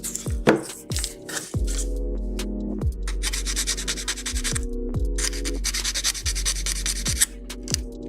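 Rubbing off sprue gate nubs on parts of a 1/72 Hasegawa Macross Queadluun Rau plastic model kit gives close, steady scraping strokes that run through most of the clip, with background music underneath.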